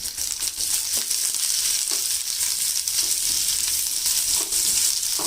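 Chopped onions, about a bowlful, hit a hot pan and fry with a steady loud sizzle, broken by a few soft stirring scrapes; no voices.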